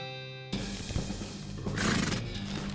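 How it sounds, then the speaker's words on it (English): In the West of Loathing video game, a horse gives a loud, close whinny that rises and trails off, with some hoof clatter and game ambience around it, and no talking. "we are going to go out to our horse"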